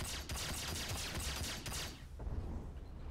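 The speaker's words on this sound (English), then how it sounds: "So what I'm going to do, though, is be able to use this pistol to shoot off pieces of the Mustang." Rapid bursts of pistol fire hammer the cockpit of a Mustang ship in the Star Citizen video game, loud sharp shots in quick succession for about two seconds before a quieter, rumbling tail.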